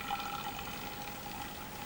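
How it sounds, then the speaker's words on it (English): Hydrogen peroxide poured into a lab cylinder holding a catalyst, giving a steady liquid pouring and trickling wash with a thin tonal ring, continuous for about two seconds with no talk. "pouring produces a little foam,"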